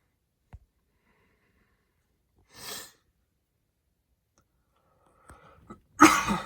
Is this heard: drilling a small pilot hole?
no